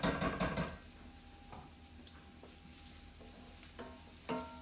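Celery, red onion and garlic tumble into a hot cast-iron pan for a Mediterranean frittata, a burst of sizzling and stirring scrapes at first, then a quieter simmering fry broken by a few soft clinks and stirs.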